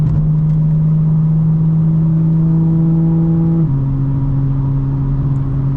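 A 2025 BMW M4 Competition xDrive drives at a steady cruise, its engine holding an even drone that steps down in pitch partway through. The sound is loud and close, with no talk.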